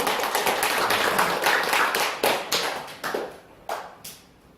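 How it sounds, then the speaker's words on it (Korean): Lecture audience clapping, a dense burst of many hands that thins into a few scattered, separate claps as it dies away. "이럴 때는 박수 한번 치는 겁니다."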